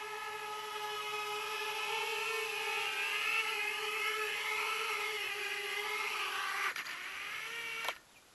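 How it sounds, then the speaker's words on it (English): Motors on a carbon-over-plywood miniquad drone keep spinning after landing, a steady high whir with layered tones that holds for nearly seven seconds, then cuts off abruptly in two steps into quiet. "When I drop the throttle to 0 after I landed, the motors don't stop."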